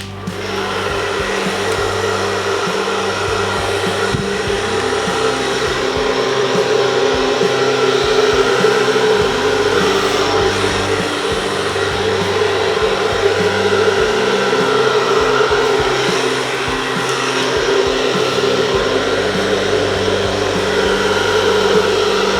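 A blower running continuously while blowing out an acrylic Dutch pour painting in burgundy and gold, a loud steady close whoosh with a droning motor hum and no talk.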